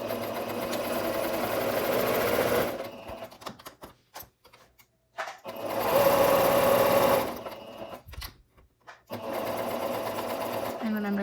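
Domestic sewing machine stitching down pocket seams on a New Look 6737 garment, running in bursts with pauses between, a steady close whirring drone that stops and restarts, with someone talking over parts of it.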